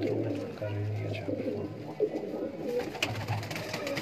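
Sialkoti pigeons coo in a steady low murmur at close range, with several birds overlapping and a busy background of voices and movement; people talk nearby.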